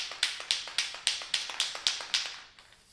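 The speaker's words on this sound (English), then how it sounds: "And then just start spraying." Short bursts of spray paint hiss onto a metal rat cage, about nine quick sprays in an even rhythm, close and fairly soft, with no talking.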